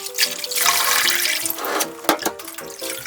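Pepper leaves being rinsed in water for red pepper leaf kimchi, with close running and splashing water and a few sharper sloshes toward the end.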